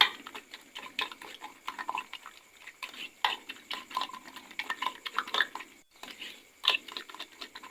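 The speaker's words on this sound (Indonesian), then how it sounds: "Oke, kembali kita aduk" A spoon stirs a dish with spring onions in a pan, giving repeated close scraping and clinking strokes in an uneven rhythm, with a brief pause near the end.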